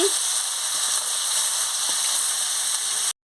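Steady, dense sizzling of fish frying in a hot karahi, constant and close, with faint scrapes now and then.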